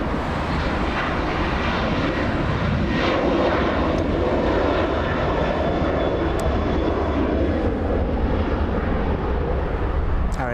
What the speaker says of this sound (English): Delta flight on the runway starting to get a move on, flying to Salt Lake City